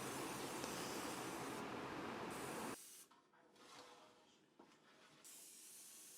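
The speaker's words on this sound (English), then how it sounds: "We'll spray the pan so it doesn't get all sticky." Cooking spray hisses from a can onto a casserole pan in one long, close, steady burst, followed by a few short, quieter spritzes.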